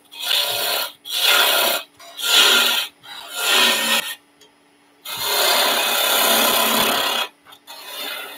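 A sharp turning tool cuts an acorn-shaped wooden box on a lathe, making rough rasping passes: four short strokes with brief pauses, a quiet gap, then one longer cut and a final short one, all close and clear.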